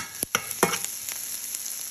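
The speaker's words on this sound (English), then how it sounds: "Stir it up a little bit. Continue to saute the celery and onions until they start to turn a little bit brown." Celery and onions sauté in a hot pan, with short scraping stirs over a steady sizzle and no talk.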